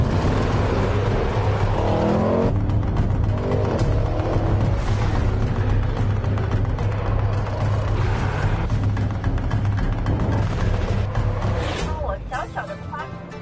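A 2018 Range Rover Sport with electric-motor boost accelerating hard on a mountain road challenge: a loud, continuous engine roar and revving that fades toward the end, with voices talking inside the cabin.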